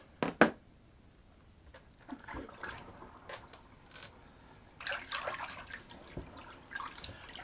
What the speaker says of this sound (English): just gonna rinse this puppy off. Drain my sink.